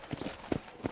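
Horse hooves clip-clop on the ground at a ranch in Red Dead Redemption, a few close, evenly spaced hoof beats in quick succession.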